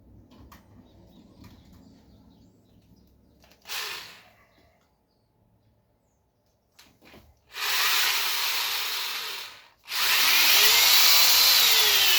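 A power drill bores into wood in a workshop; after a quiet stretch with a brief scrape, two loud, sustained drilling bursts follow close by, separated by a short pause.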